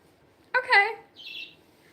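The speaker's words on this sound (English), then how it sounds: "Oh my god, is this your bird?" A pet bird gives a short vocal call, then a brief, high, faint chirp in a quiet indoor room.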